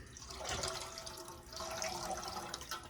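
Canned beef broth pouring into a pot, a steady splashing liquid stream lasting the full stretch, close and moderately loud with slight swells.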